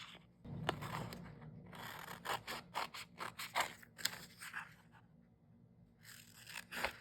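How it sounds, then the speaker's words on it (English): Scissors snip through paper for a reading journal, a series of quiet close cuts and rustles in uneven bursts, with no talking. "I think I'm gonna cut this one."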